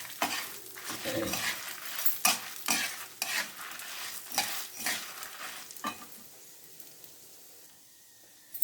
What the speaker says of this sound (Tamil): இந்த மிளகாய் வந்து நல்லா வறுப்படணும் அப்போ இந்த பருப்பு சேர்ந்து கரெக்டாக வறுப்பட்டுடும்